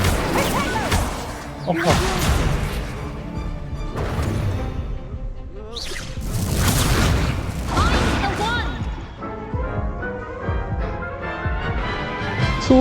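Confringo and Incendio spell blasts in the video game Hogwarts Legacy: repeated booming bursts and whooshing crashes in quick succession over game music, while a player exclaims and shouts over the action.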